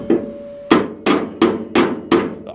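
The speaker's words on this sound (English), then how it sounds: "We might get the little toffee hammer on it, see if we can bring it in a little bit more." A small toffee hammer taps a Cortina car body panel six times in a steady, evenly spaced rhythm. Each tap is sharp, close and metallic, with no voices.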